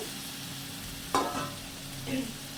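Ground garam masala stir-fried in a pan beside a prawn and banana-flower dish: a low sizzle bed broken by two short scraping stirs, close by, without talk.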